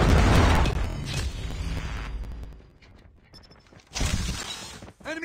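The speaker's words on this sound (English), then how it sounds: "Predator missile inbound" A Predator missile strike explodes in a first-person shooter video game: a loud, crashing blast that fades into rumbling debris, then a second sharp burst near the end.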